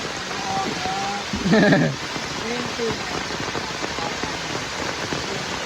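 Steady broadband rush of water under heavy rain, continuous and fairly loud, with a person talking briefly over it.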